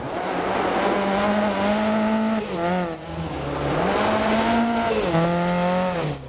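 A Lancia 037 rally car in the DiRT Rally 2.0 racing game, its engine revving hard and holding high through the gears, dipping briefly at each shift, with tire squeal, loud and continuous throughout.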